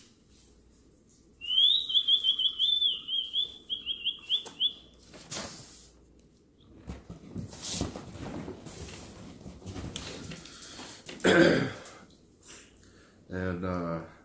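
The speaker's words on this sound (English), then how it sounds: "I like to whistle." A person whistles a quick run of bright, rising and falling notes, close and fairly loud, followed by rustling and a person talking.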